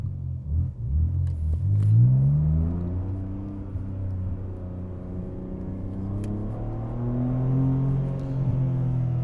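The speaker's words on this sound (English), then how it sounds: "This car is loud." A BMW G80 M3 with a six-speed manual gearbox drives on summer tires, its engine rumbling loudly and climbing in pitch as it accelerates, then holding a steady drone heard from inside the car; no talking over it.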